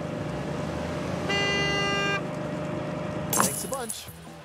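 Over a low background hum in the video game Gas Station Simulator, a car horn gives one steady honk lasting under a second, and someone speaks briefly afterward.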